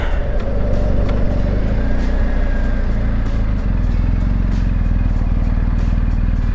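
A BMW R 1250 GSA motorcycle's boxer engine runs loud and close, a steady, dense rumble that climbs steadily in revs. No voices are heard over the engine.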